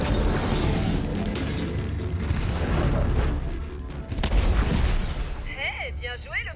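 Heavy booming weapon fire from Starlink: Battle for Atlas pounds continuously in dense, explosive bursts, with people talking over the barrage.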